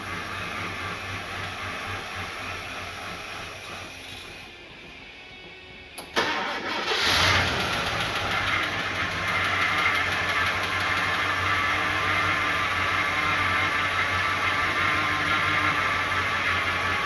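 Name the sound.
Ford Falcon Fairmont engine running, about to die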